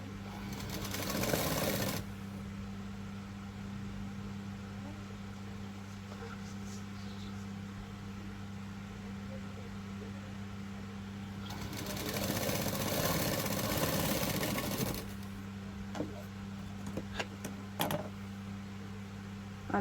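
A sewing machine stitches fabric on a Marathi blouse-neck project. A short whirring burst comes at the start and a longer run comes later, with a low motor hum and a few scattered clicks in between.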